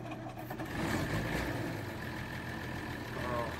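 A modded tractor engine idles in a farming video game, a steady mid-to-low drone running continuously at moderate level with little change.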